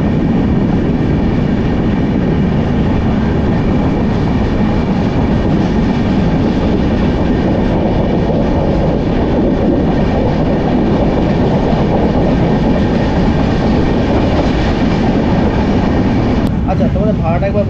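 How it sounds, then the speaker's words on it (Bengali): A train with new LHB coaches runs toward Dhanbad station, a loud, steady rumble of wheels on track filling the whole stretch, with faint clickety-clack and a brief squeal near the end. "আমাদের ট্রেন এবারে ধানবাদ ঢুকবে"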